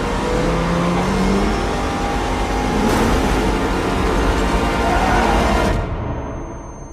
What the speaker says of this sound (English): a lot of car noises